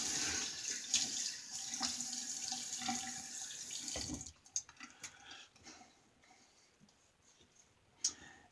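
Bathroom tap running into a sink while a safety razor is rinsed, a steady close rush for about four seconds, then the flow stops and a few clinks and drips follow.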